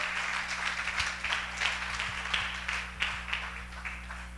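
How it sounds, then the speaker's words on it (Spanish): A congregation applauds during a Spanish-language church service, with sustained clapping that swells in rhythmic pulses at moderate loudness and no voice on top. "Dele un aplauso al Señor si lo está entendiendo."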